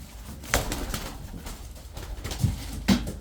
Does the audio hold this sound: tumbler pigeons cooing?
yes